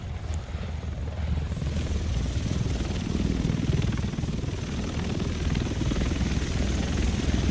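A helicopter arrives over Manhattan in the video game The Division, its rotor chopping in a loud, steady, continuous thrum with no talk over it.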